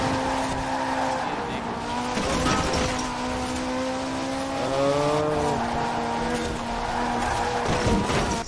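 A Ferrari 458 Speciale at speed through city streets in Forza Horizon 4, its engine holding a steady high drone with gear shifts and tire squeal on corners, continuous and close throughout.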